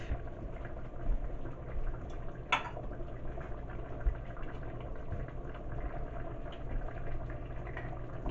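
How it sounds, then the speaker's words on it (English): Pot roast gravy bubbles at a steady boil in a pot, a constant low burbling and simmering texture with one brief clink, close and unbroken, with no talk. "And just let it boil for about a minute."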